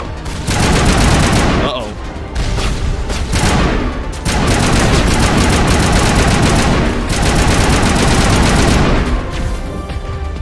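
Dense, continuous automatic gunfire and booming shots in the game Mass Effect, loud and close, running almost without pause for several seconds, with a brief voice heard early on.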